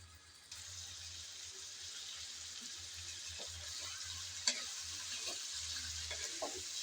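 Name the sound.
mutton with spices stir-frying in a pot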